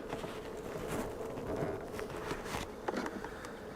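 Honeybees swarming at an early-spring hive during brood box rotation, a dense, steady buzzing drone close up, with light tapping and shuffling from handling the hive.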